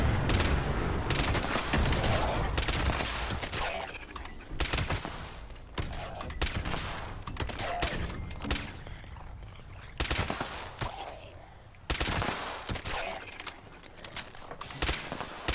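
An anti-armor explosive pipe rifle fires in a video game, producing loud, dense volleys of gunfire and blasts that recur in bursts over about fifteen seconds, with a voice talking over some of it.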